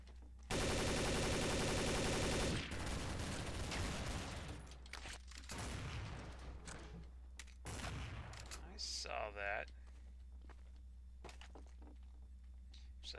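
Rapid automatic gunfire in Counter-Strike: Source, a dense sustained burst of shots near and loud, followed by scattered single shots, thuds and footsteps, with a voice speaking briefly.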